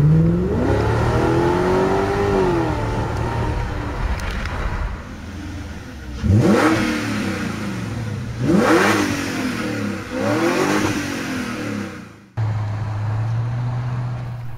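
A BMW E39 with its final exhaust silencer removed revs repeatedly, each blip rising sharply and falling back to a rumbling idle, loud and close, with no other sound.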